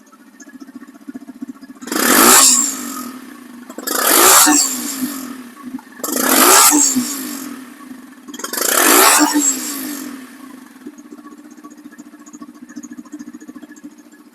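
A lightly used 2024 FZ-3 motorcycle, three months old with about 1100 km, idles steadily and is revved hard four times in evenly spaced bursts, each swelling and falling back to idle. No one speaks.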